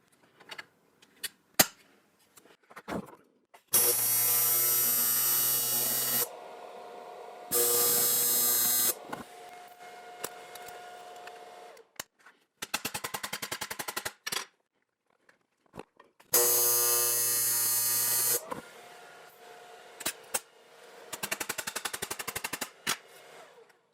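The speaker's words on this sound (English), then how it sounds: "I'll get this clamped into place and put some tack welds on it" Tack welding on a clamped metal joint: several separate bursts of harsh, crackling arc buzz, each lasting a second or two, broken up by short quiet gaps and faint handling clicks, with no talking.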